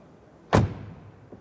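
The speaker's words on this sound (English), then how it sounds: "Interesting, that almost sounds like this old school G-Class door closing sound," A Mercedes-Benz EQS car door closes once with a single solid, close thud and a short resonant tail, followed by a faint knock a moment later.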